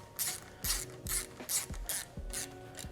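A hand ratchet tightening bolts on the top end of a Porsche 3.2 engine, rapid clicking bursts repeated in a regular back-and-forth rhythm, close and clear with no talking.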